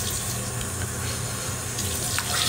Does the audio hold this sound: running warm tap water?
yes